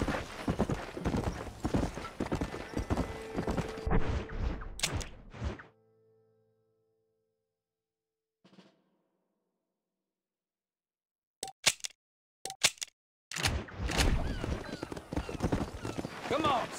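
Horse hooves clip-clop in a steady galloping rhythm in the Red Dead Redemption video game, cutting off into near silence, then a few scattered thuds before the hoofbeats resume loud and close.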